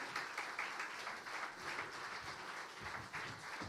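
Conference audience applauding panel speakers at a round table, sustained even clapping, fairly quiet and heard alone.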